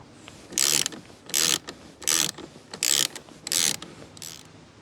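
A ratchet wrench loosens the nut on a car battery terminal while removing an insurance telematics black box, giving five loud, close bursts of rapid clicking separated by short pauses.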